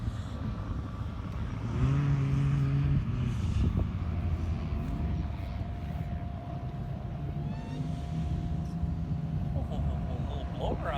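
A supercharged Ford Bronco's engine and blower growl continuously at a 2018 Bronco gathering, with a brief rise in revs and a faint whine above the rumble, while voices talk in the background.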